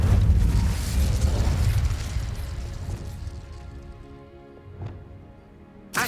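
A fiery Incendio spell blast in the video game Hogwarts Legacy opens with a loud, roaring burst that slowly fades. A smaller pop follows near the end, then a sharp final hit.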